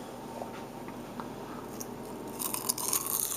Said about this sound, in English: they want to hear the crispity crunchy